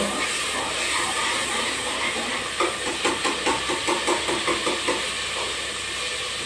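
Ghee heating in a pan on the stove gives a steady broadband hiss, with a faint run of soft rhythmic ticks or bubbling partway through. No one talks.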